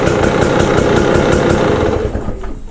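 A cold KTM 300 XCW TPI two-stroke dirt bike engine runs loud and close, a rough, uneven idle with rapid pulsing firing and slight knocking, easing a little toward the end.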